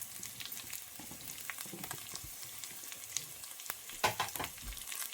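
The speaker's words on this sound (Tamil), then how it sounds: "அதோட இந்த தேங்காய் சொட்டையும் நான் போடுறேன்" Onion and coconut pieces frying in a pan: a quiet, continuous sizzle with scattered crackles, then a louder burst of spluttering and a clatter as more pieces go in.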